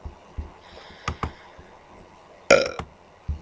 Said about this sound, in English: Yes, I burped.